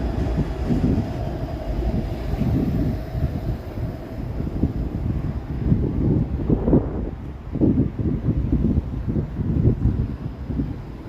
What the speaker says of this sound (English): Yeah, the wind is really blowing.